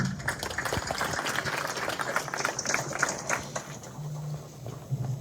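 An audience at the Numed Awards ceremony in Senegal applauds Hassan Bou with steady, moderately loud clapping that holds for several seconds, with scattered voices mixed in.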